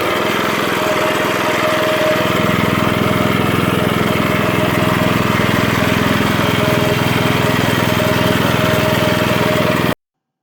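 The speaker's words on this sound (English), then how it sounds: "I'll include some additional mowing clips." A lawn mower cutting grass in summer runs at a steady, loud engine drone with a constant whine, close by and unbroken for about ten seconds before cutting off abruptly.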